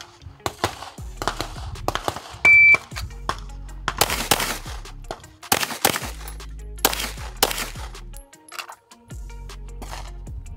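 Pistol shots from a Staccato P crack out during an accelerator shooting drill at a range, in several sharp clusters of rapid fire separated by pauses, with brief outdoor handling sounds between.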